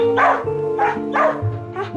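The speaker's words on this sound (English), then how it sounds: "I would love Caesar to be able to identify a way that I can stop him barking" Astro, an Australian working dog, barks four times in loud, close, evenly spaced woofs.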